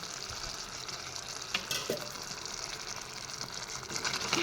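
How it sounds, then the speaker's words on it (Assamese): Chicken curry with potato and tomato being stirred in a pot after water is added, giving a close, steady frying hiss with a few scraping stir sounds. "এতিয়া তল ওপৰ কৰি এনেদৰে লৰাই দিছোঁ"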